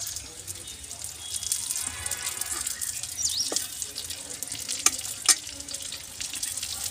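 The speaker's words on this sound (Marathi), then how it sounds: "आपण ह्याच्यात वांगे सोडूया." Stuffed brinjals drop into roasted masala and fry with a soft, moderate sizzle, broken by a few sharp clinks and scrapes of utensils; quiet background noise beneath.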